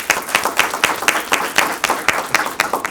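An audience at a live conversation event applauds with distinct, fairly sparse hand claps that land in an uneven but lively rhythm, crisp and close throughout the short burst.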